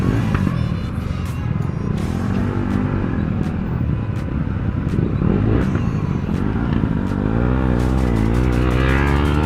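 Motorcycles rev loudly at a toll gate in Panagarh while a KTM Duke 250 pulls a wheelie. A continuous close engine roar swells and falls and climbs sharply toward the end, with wind buffeting throughout.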